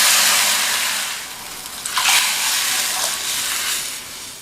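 Water pours into a hot pan of sautéed upma base with a broad, hissing splash and sizzle, loud at first and easing off over a few seconds.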